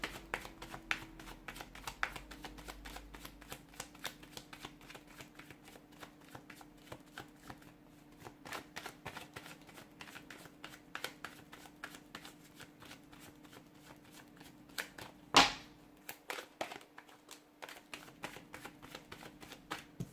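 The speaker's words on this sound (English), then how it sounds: "I've put those cards back in the deck" Tarot cards shuffled steadily by hand for a long stretch, a dense run of soft riffling slaps and clicks with one sharper snap partway through, close and fairly quiet, no voices.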